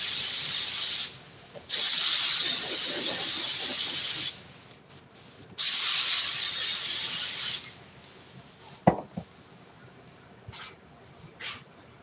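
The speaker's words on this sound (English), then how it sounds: "I'm just spraying glue all on this because I'm going to have to glue some anyway." Spray glue hisses from a can onto airplane seat upholstery in two long, loud bursts separated by a short pause, followed by quieter handling noises and a sharp knock.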